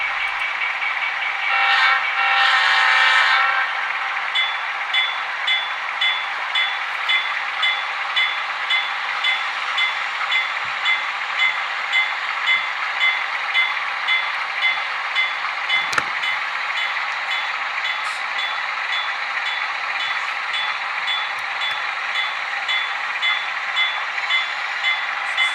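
Sound effects from an Atlas SCL Spirit of 76 model locomotive: a short whistle blast at the start, then a steady mechanical hum with evenly spaced rhythmic pulses, close and fairly loud, without talking.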